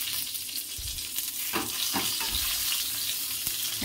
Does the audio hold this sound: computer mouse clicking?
no